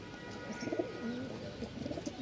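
Soft, low cooing of a pigeon, repeated in a gentle rolling rhythm, close by against a faint background hum.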